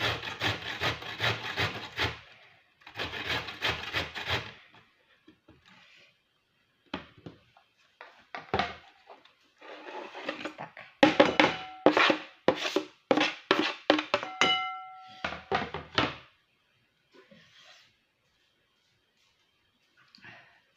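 Carrots are rubbed over a hand grater into a large white bowl in bursts of rasping strokes, some quick rhythmic runs and some pauses, close and fairly loud, with no talking.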